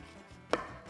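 A single crisp knife cut through an onion on a cutting board while thin slices are made for a beef kabob meal prep salad, one short sharp chop standing clearly above a quiet room.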